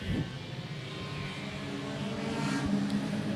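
Modified production race cars sweep through a corner at Gympie Speedway during a night race meeting, a steady broad engine roar holding throughout with a slight rise near the end as the pack passes.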